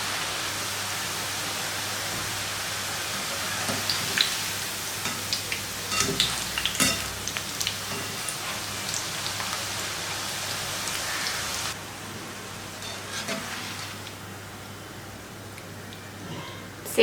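Sev dough pressed through a mould sizzles steadily in hot oil, a dense, continuous crackling hiss with occasional louder pops, close and alone with no talking.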